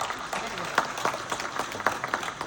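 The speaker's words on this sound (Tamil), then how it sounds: "அவருக்கு நீங்கள் பெரிய கைத்தட்டல் கொடுத்தாங்க" Audience applause at a Tamil movie audio launch event, a dense crackle of many hands clapping throughout, with a voice speaking over it.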